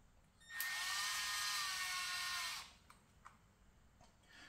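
A cordless power drill spins for about two seconds, driving the screws on a C6 Corvette paddle shifter during an F1 paddle shifter upgrade, a steady close whine that stops abruptly, followed by a few light clicks.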